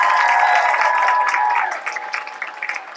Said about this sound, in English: one huge round of applause for all of our contestants